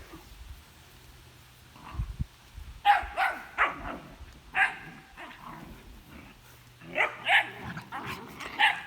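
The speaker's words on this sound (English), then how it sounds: "You hear screeching and everything, but it's just, she's teaching them how to behave, how to play, what's acceptable as dogs." Young puppies screech, yip and whimper while their mother dog barks and plays with them indoors in a house pack, in repeated close bursts separated by short lulls.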